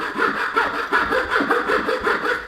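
A multitool saw slowly cutting through plastic, giving a steady buzzing drone that pulses in a regular rhythm, close and fairly loud, with no talking over it.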